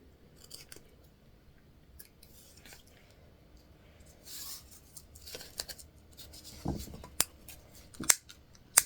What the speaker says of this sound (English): we're going to cut off any of our extra threads